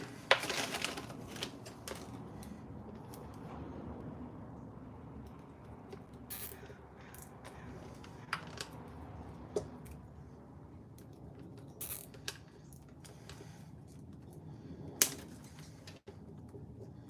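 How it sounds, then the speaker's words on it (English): Zip ties are ratcheted tight on a DIY guitar pedalboard. Close, sharp plastic zipping bursts recur every few seconds over a quiet background. "zip tie them shut"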